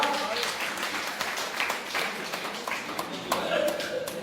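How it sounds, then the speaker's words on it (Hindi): Audience at a Sanatan Mahasabha gathering claps loudly, a dense sustained burst of applause lasting several seconds with voices mixed in. "एक बार जोरदार तालियां बजाओ।"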